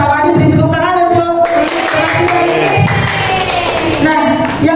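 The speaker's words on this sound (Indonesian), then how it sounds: "beri tepuk tangan untuk" A small group gives a brief burst of clapping for two men after a school group activity, starting abruptly after some talk and continuing as a steady patter of claps with murmuring voices.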